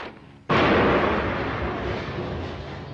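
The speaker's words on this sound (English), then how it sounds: "The terrorists panic, open fire and throw a hand grenade." A hand grenade explodes in a sudden loud, close blast that erupts after a brief quieter lead-in, followed by a sustained rumbling roar and debris wash that slowly fades over the next few seconds.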